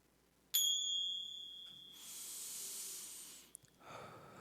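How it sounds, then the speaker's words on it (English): Ceremonial bells ring once with a bright, sharp strike that fades slowly, followed by a soft hissing wash and a faint second tap. "I have these ceremonial bells. I'm just gonna ring them a couple times"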